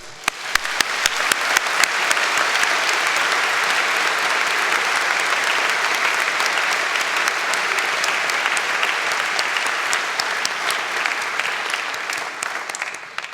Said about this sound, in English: Please join me now in a round of applause acknowledging them.